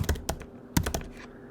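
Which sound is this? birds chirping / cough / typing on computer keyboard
typing on computer keyboard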